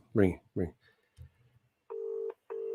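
A radio studio phone rings twice in steady electronic bursts after someone speaks briefly beforehand.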